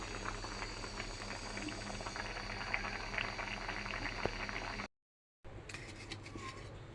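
Rice bubbling at a rolling boil in a pot, a steady close hiss of churning water running continuously, broken by a brief gap of silence before the boiling resumes.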